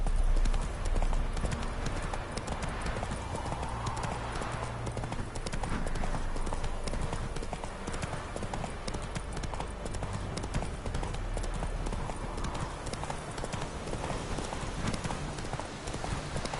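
A horse gallops at a steady pace in The Witcher 3: Wild Hunt, its hooves clip-clopping rhythmically and continuously at moderate volume over a broad background of game ambience.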